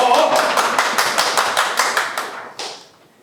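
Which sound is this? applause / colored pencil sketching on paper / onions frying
applause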